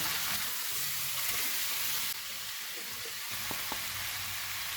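Chicken tawa pieces with green chillies and lemon pieces frying on a pan over low heat, giving a steady close sizzle throughout with a couple of faint clicks near the end.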